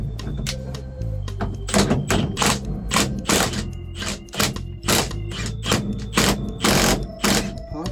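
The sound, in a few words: impact wrench removing steering wheel from steering shaft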